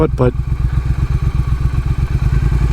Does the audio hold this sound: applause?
no